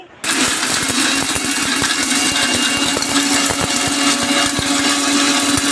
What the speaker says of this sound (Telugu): ఇది కొంచెం చల్లారాక ఒక మిక్సీ జార్లోకి తీసుకొని గ్రైండ్ చేసుకోవాలి